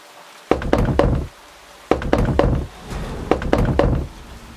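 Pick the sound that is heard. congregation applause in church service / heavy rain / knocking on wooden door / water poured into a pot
knocking on wooden door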